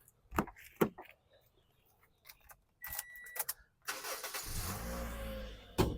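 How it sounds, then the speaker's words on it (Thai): Several sharp clicks and knocks come from a 2012 Toyota Altis 1.8E, then its engine starts with a single crank and keeps running at a steady idle. It sounds fairly quiet and close, with no talking. "สตาร์ททีเดียวติดนะครับผม"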